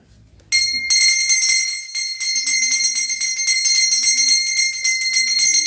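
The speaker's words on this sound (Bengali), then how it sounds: "ঘন্টাটা বাজাতো ধরো" A bell rung at a temple during a Manasa puja at a village home: rapid, continuous bright metallic strikes that start abruptly and ring on loudly, close by.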